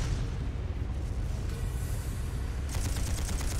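Anime-style tanks open fire in the Trails of Cold Steel video game, a dense, loud rumble of booming gunfire and explosions with rapid crackling shots near the end.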